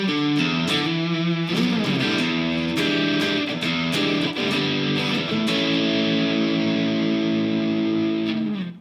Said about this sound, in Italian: Nonostante la distorsione, le note si sentono comunque tutte ed esce tutto da qui.